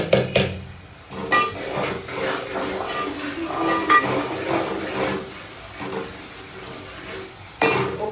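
Chopped onions for pav bhaji frying in a pan, now browned, with a steady close sizzle, a spatula stirring and scraping against the metal, and occasional clinks of a utensil.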